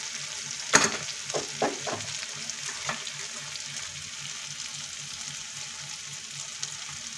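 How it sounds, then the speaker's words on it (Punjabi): Tomatoes roasting in oil for a spiced whole masoor dal, with a continuous soft sizzle and a few close scraping stirs near the start that fade into steady frying, no talk. "ਇਹਨੂੰ ਮਿਕਸ ਕਰਕੇ ਅਤੇ ਜਦੋਂ ਤੱਕ ਟਮਾਟਰ ਸੌਫਟ ਨਹੀਂ ਹੁੰਦੇ ਉਦੋਂ ਤੱਕ ਇਹਨੂੰ ਭੁੰਨਦੇ ਹਾਂ।"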